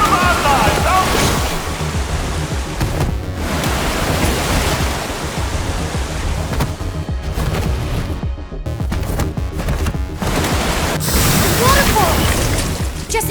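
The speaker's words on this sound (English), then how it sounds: "Waterfall!" A Minecraft Story Mode Season 2 game waterfall rushes in a steady, loud, broad hiss that never lets up, with brief dips and swells in the spray.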